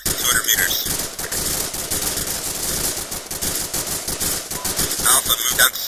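Rapid gunfire from an ArmA 2 training mission rattles in dense, overlapping machine-gun bursts that are continuous and loud throughout, with no clear pauses.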